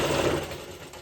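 Sewing machine running steadily while stitching down the middle of a godhadi quilt made from folded saree cloth, a continuous close mechanical whir that eases slightly toward the end of the short burst.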